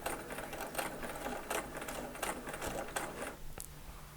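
A sewing machine stitches a seam line for a quilt star block, its close motor buzz broken by rapid needle clicks and a few brief pauses.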